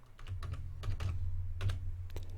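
Fingers type on a computer keyboard in a brief, quick burst of close, clattering keystrokes over a low background hum.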